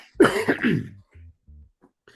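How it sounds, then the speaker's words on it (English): A single sharp cough bursts out close up, followed by a few faint low throaty sounds and quiet stillness. "I meant to mute there, and I missed the click, so you got a cough."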